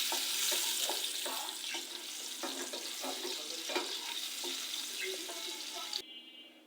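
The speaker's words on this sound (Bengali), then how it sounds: "আর দিচ্ছি পেঁয়াজ কুচি এবং আরও রসুন কুচি। তো এগুলো আমি ভেজে নিব" Chopped onion, garlic and sliced dried chillies sizzle in a pan for a Malabar spinach stir-fry, a close, steady crackling hiss broken by scraping stirs, with no talk, cutting off abruptly near the end.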